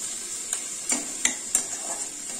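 Cauliflower curry with capsicum sizzles steadily in a hot pan while a spoon stirs it, giving four or five distinct scraping strokes over the constant close frying hiss.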